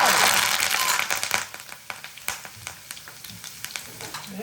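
Mustard seeds, red chilli pieces and garlic crackle and sizzle in hot oil for tempering, a loud burst at first that settles into sparse popping and spitting close up.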